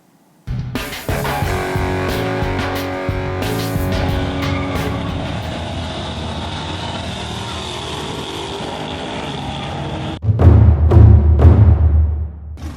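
Cars at a drag strip, with a loud, continuous engine drone and whine that holds steady for about ten seconds, then a deeper, rougher roar takes over at the end, with no talking.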